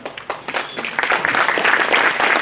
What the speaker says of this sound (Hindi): सब इस्तकबाल किया जाए जोरदार तालियों के साथ।